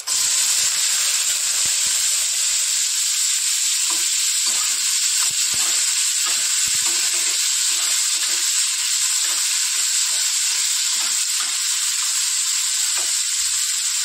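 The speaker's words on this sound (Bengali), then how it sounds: "তো এতে একটু জিরে ফোড়ন দেব, দিয়ে আর এই সবজিটা ঢেলে দেবো।" Cut yardlong beans, potato and carrot hit hot oil tempered with cumin seeds, giving a steady loud sizzle and hiss that runs unbroken throughout, with faint stirring clicks underneath.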